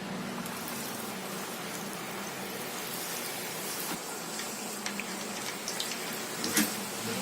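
Chicken cheese balls frying in hot oil over medium heat, giving a steady, dense sizzle and crackle throughout, with a few louder pops near the end and no talking.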